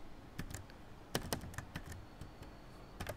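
HTML code is typed on a computer keyboard, with quick, irregular, close key clicks clustered in short runs and no talking.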